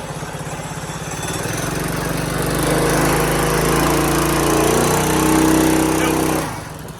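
A 1969 Yamaha 125 Wasteland bike's small engine revs hard and steadily for several seconds in a burnout attempt, a loud, buzzing drone that holds near and close before dropping away at the end.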